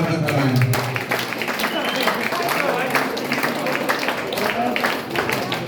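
An audience at a Kazakh Betashar wedding ceremony claps, dense continuous applause filling the room, loud and sustained with crowd noise and voices mixed under it.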